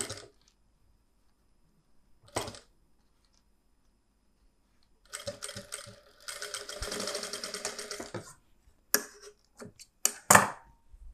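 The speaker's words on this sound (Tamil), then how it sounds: "அதே மாதிரி இங்கேயும் நான் தையல் போடுறேன்." Sewing machine stitching rope bell pleats on the back of a blouse, with a sustained whirring run of about three seconds between short clicks and bursts of handling, close by and with no talking.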